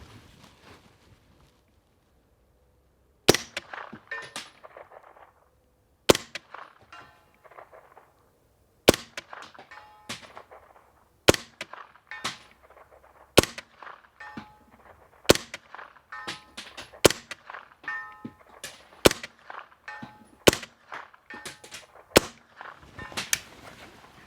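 Rifle-calibre shots from a B&T carbine fired outdoors at steel targets, about ten sharp cracks each followed by a bright metallic ring, spaced roughly two seconds apart after a quiet start.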